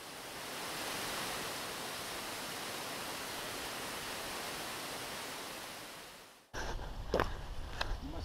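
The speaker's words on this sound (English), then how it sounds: "the spectacular view on a roaring waterfall" A constant, dense roar of falling water fills most of the clip, then cuts abruptly to a closer, rustling wind-buffeted sound near the end.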